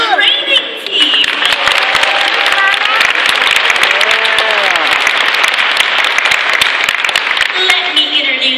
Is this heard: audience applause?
yes